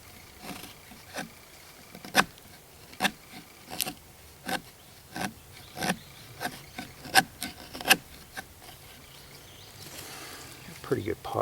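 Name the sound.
scraping wood into fine shavings for fire tinder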